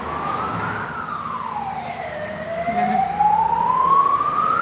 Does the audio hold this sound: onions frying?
no